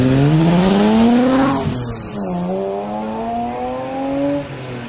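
A 1996 BMW E36 3.2-litre race car on a historic hill-climb course revs hard, its engine note climbing, dropping on a gear change, then rising again as it pulls away, close and loud.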